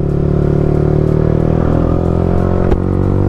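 A Yamaha R15 M motorcycle fitted with an aftermarket exhaust idles up close, loud and steady with a buzzing, harmonic-rich drone and a brief clatter near the end.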